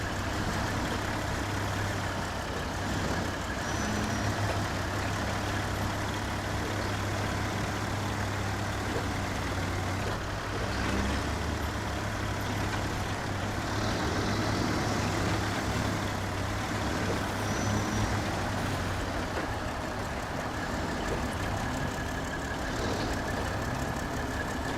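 A Tatra 963 heavy truck engine in the off-road game SnowRunner, driving through mud on a modded map, rumbles and idles steadily throughout with a constant low drone and no talk.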